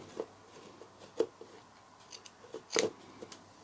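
Scissors snip off excess ribbon during a Valentine's craft project, giving a few sharp, quiet cuts spaced apart with soft handling noise between them.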